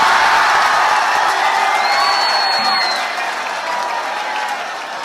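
An audience at a Hindi kavi sammelan poetry gathering breaks into sustained applause with some cheering, loud at first and easing slightly toward the end.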